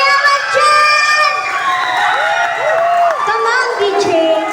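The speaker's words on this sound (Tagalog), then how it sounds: "Wala po ba masigatong palakpakan na may kasamang hiyawan dyan?" Live audience at a singer's medley performance cheering, whooping and clapping, a loud continuous crowd roar with shouted voices throughout.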